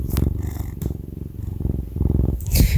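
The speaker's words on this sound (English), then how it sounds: "I don't know if you could hear him purring." A pet cat named Jack purrs close to the microphone in a loud, rhythmic rumble of breathy pulses, broken by a couple of brief rustling handling noises.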